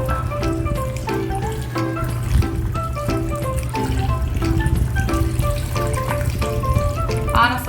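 Water pours into a pot to cover beef vegetable stew, a steady close trickling and splashing under a low hum, with faint clinks of ingredients.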